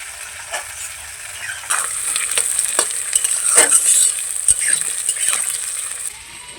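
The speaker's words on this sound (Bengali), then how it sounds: "এখন কেটে রাখা আলুগুলোকে দিয়ে দেব। আলুগুলোকে দিয়ে 2-4 মিনিট ভেজে নেব।" Cut potatoes with onions fry in a pan, producing a steady close sizzle, with stirring scrapes and clinks of the spatula punctuating it at irregular intervals.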